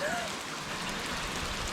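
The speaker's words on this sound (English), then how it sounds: "all of a sudden it turned to rain" Sleet turning to rain falls outside, a steady, close, even hiss of drops that covers the whole short stretch with no other sound rising above it.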